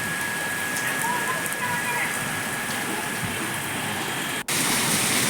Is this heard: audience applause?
no